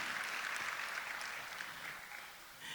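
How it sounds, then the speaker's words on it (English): Audience applause at the 5th Hollywood Foundation KwaZulu-Natal Youth Business ceremony, a dense, even wash of clapping that holds steady and then eases off slightly near the end. "give a big round of applause to Hollywood Foundation"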